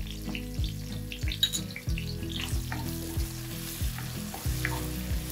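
Ginger garlic paste and green chili fry in hot oil for a fish head curry, giving a steady close sizzle with repeated scraping stirs and utensil knocks, and nobody speaking.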